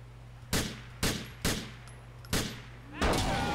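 Gunfire in GTA IV rings out as five sharp, loud shots, the first four spaced roughly half a second apart, then a longer burst of noise at the end over a steady low hum.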